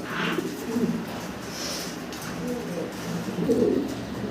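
Pigeons coo softly in a breeding farm, with a few low, rolling calls spread over a few seconds against a faint background hum.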